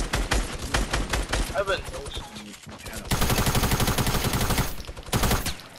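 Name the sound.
gunfire in a video game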